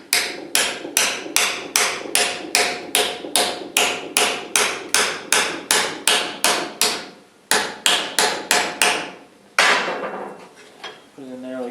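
Sheet metal is hammered by hand around box tubing during repair of rusty Ford Model A door jambs on a Sweet Heart Roadster, with about twenty loud, evenly spaced hammer blows, a short pause, then a few more strikes.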